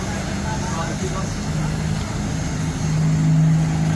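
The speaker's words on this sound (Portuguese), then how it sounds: "Tem como você colocar o carro aqui, por favor?" A car engine running close by as the car is moved into position, a loud, constant drone that swells and steadies into a stronger hum toward the end.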